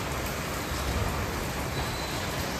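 Heavy rain pours steadily during an afternoon downpour, a dense, continuous hiss close by with no pauses and no voices.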